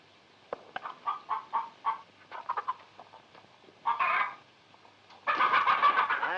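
Chickens cluck on a farm in a string of short, close calls that come in bursts, ending in a louder, longer run of squawking.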